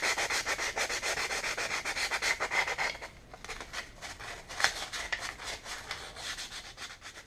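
Hand sanding with 320 grit sandpaper over an aluminum bicycle crankarm to remove scratches; rapid, even back-and-forth strokes rasp up close, steady for about three seconds, then a little softer and more uneven.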